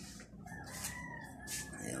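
A rooster crows at dawn around 5:20 in the morning near a rubber tree garden, its call fairly distant and faint, with a few rising drawn-out notes over quiet rural background noise.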